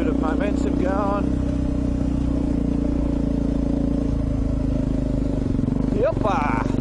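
A steady, close engine drone comes from a dual sport motorcycle riding in second gear on trails. It holds an even pitch throughout, and a voice speaks over it.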